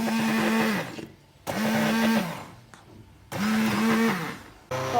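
A blender mixing ice cream whirs loudly in three long bursts, each running about a second or more with short pauses between, motor pitch steady and strong.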